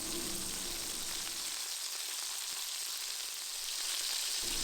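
Lamb burger patties frying with cheese added on top, a steady, close, hissing sizzle with faint crackles throughout, the low hum behind it dropping away partway through, no voices.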